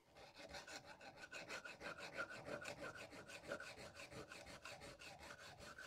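A hacksaw fitted with a coarse 18 TPI blade cutting thin tubing, giving steady back-and-forth rasping strokes in an even rhythm, close up but fairly quiet, with no voices.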